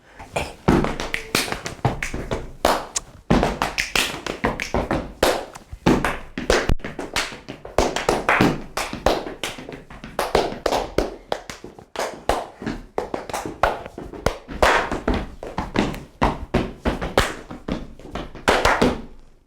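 Rapid rhythmic hand clapping and tapping, sharp percussive hits in varied patterns filling the whole stretch, with brief vocal shouts.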